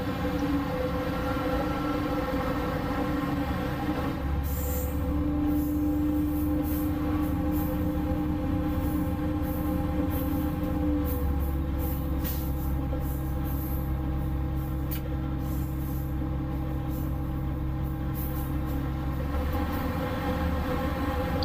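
A passenger train between Laroquebrou and Aurillac, France, rumbles steadily along the rails, a loud continuous roar with a low droning hum and occasional clatter throughout.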